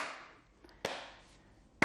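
Two separate sharp claps during a seated chair exercise routine, one near the middle and one at the very end, with a quieter tap earlier and fading hiss between them.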